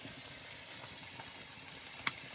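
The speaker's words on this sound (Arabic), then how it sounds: "سمعهم صوت الطقطقة" Steady sizzling and crackling of food frying in hot oil, with a sharp pop near the end, no voices.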